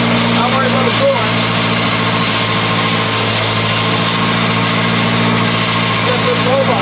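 A monster trike's engine running with coolant circulating, a loud, close, steady mechanical drone with a constant pitch that holds evenly from start to finish.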